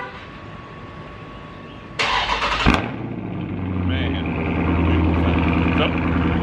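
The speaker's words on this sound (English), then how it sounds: "I'm gonna let her start the car real quick because she's never started the car with the keychain." A car engine is started by keychain remote start: after quiet background noise and faint voices, a sharp cranking burst catches and settles into a steady, rumbling idle that grows slightly louder.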